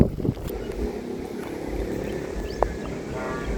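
A noisy saranggola flies high, sending out a continuous droning hum mixed with gusty wind rush, steady and fairly loud with a brief knock partway through.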